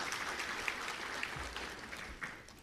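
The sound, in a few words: audience applause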